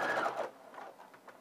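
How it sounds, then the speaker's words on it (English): Sewing machine stitching a raglan sleeve seam on the inside of the sleeve, from neck point toward the underarm, heard as a short close burst of running stitches that quickly fades to a softer whir. "I'm sewing on the inside of the actual sleeve"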